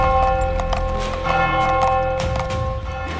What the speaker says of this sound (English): the ringing of our church bell